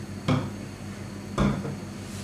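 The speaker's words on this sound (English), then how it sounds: "So just squirt 5 squirts into the pan" Two short squirts of 1-calorie rapeseed spray oil hit a frying pan, each a quick hiss-burst about a second apart, close and clear with no talk.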